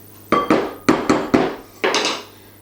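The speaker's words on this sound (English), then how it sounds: "So I'll cut the fats into little cubes." A knife cuts fat, butter and lard, into small cubes for pastry, giving five or six crisp, close thuds of the blade striking a board in a quick, uneven rhythm.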